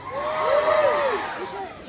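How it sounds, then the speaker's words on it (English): A live comedy audience at Haven Seashore cheers for the Mystery Machine, a loud crowd roar with whoops and a shrill whistle-like cry swelling and then fading. "Let's have a cheer for the Mystery Machine!"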